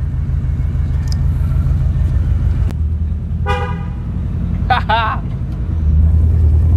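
A pickup truck races fast along a road with a steady low engine rumble, a car horn tooting twice in the middle, and people talking over the noise.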